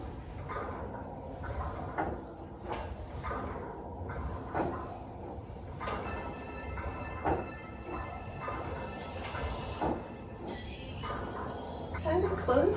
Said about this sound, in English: Resist those springs as the carriage closes.